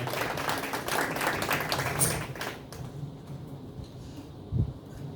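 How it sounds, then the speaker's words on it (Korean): An audience at a Democratic Party Daejeon branch election planning committee launch ceremony applauds to welcome a speaker, a moderate wash of clapping that fades out after a couple of seconds, leaving quiet room noise and a brief bump. "큰 박수로 모시겠습니다"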